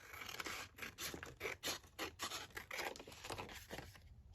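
Scissors snip through book-page paper for journal cards, a quick run of close, quiet crisp cuts with short gaps between each stroke.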